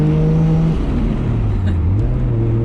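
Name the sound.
car engine revving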